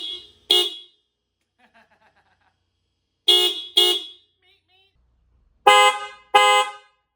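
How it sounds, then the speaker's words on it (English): An upgraded premium horn on a 6th gen Toyota 4Runner honks in three separate pairs of short, loud blasts, with quiet gaps between each pair. "Sounds like a real horn."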